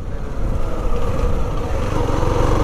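Heavy motorcycle ridden slowly with a load, a loud, close, steady low engine rumble that holds even throughout, no talking.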